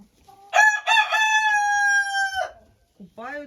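An Ameraucana rooster crows once near the mic, a long drawn-out call among the flock, followed by a brief softer cluck or second call at the end.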